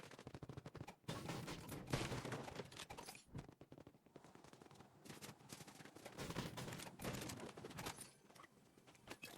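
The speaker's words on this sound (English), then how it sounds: "And now I hear gunshots over here" Fortnite gunfire rings out in rapid bursts and scattered single shots, fairly distant and muffled, with short pauses between clusters of shots.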